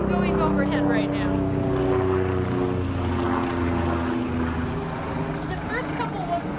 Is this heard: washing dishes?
no